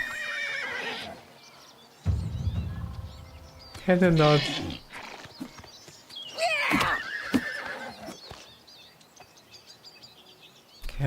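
Loud whinnies and snorts from an agitated horse in the video game TES IV: Oblivion Remastered, mixed with hoof clops and combat noises, with someone speaking briefly.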